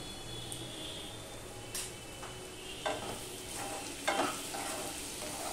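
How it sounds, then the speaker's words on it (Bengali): Potatoes stirred in a pan with salt and turmeric for Bengali ghugni, a soft, steady sizzle with occasional louder scraping strokes of the spoon, close and without talk. "ভালো করে মিশিয়ে নিচ্ছি"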